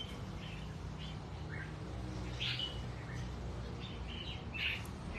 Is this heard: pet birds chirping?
yes